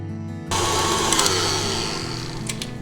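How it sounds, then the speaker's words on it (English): Electric mixer creams softened butter with sugar for cookie dough, switching on abruptly into a steady motor whir with light rattling, close and continuous, with no talking. "softened butter with both sugars and let them mix until they are soft and fluffy"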